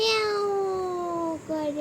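A voice imitates a cat's meow, drawn out in two wavering tonal calls, close and clear, made for a two-month-old baby.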